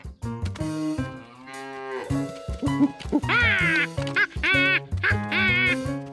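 Several cartoon cows moo in overlapping, drawn-out calls, loud and close, one after another with brief gaps between them.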